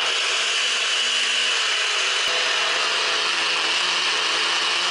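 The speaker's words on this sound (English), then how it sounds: "So the blitzing of the chilies and the apples isn't that easy, so we're doing it in gradual amounts just to get it done." A blender blitzes chillies and apples for sweet chilli ketchup, a loud continuous whirring grind that runs the whole time, with a brief sharp click partway through and no talk.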